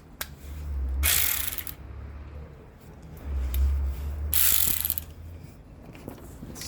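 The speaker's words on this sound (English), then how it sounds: "why is it giving my wrench, my ratchet, a hard time?" A ratchet wrench working on an upper control arm bolt, with bursts of rapid metallic clicking alternating with low grinding strain as the bolt turns, close up in a quiet garage.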